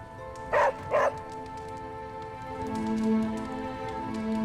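A dog barks twice in quick succession in Marvel's Midnight Suns on PC, sharp and close, followed by low ambient game music with a faint rain-like hiss underneath.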